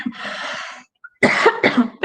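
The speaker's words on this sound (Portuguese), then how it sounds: "eu vou tossir sempre, é refluxo, não é Covid" Several harsh coughs from an adult with reflux: one long rasping cough, a short pause, then a quick burst of two or three more coughs, close to the microphone and loud.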